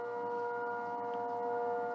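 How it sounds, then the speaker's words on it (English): A civil defense siren sounds at noon, a steady sustained wail held at constant pitch throughout, loud and continuous with no talking over it. "hopefully these sirens will stop while I'm talking"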